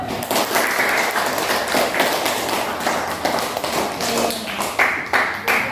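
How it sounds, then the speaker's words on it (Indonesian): A classroom full of people clapping together, rapid uneven hand claps sustained for several seconds at close range. "Untuk memberi semangat, kita kembali tepuk tangan dulu."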